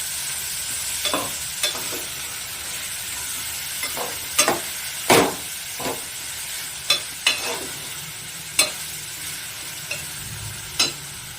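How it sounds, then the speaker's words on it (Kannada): Tomato sizzles and fries in a pan for bitter gourd sambar, a steady hiss under sharp, scattered clinks and scrapes of a spoon stirring, close and fairly loud. "ಇವಾಗ ಇದು ನೀಟಾಗಿ ಟೊಮೆಟೊ ಏನಿದೆ ಅದು ನೀಟಾಗಿ ಸ್ಮ್ಯಾಶ್ ಆಗಬೇಕು, ಅಲ್ಲಿ ತನಕ ನೀಟಾಗಿ ಫ್ರೈ ಮಾಡ್ಕೊಳ್ಳಿ."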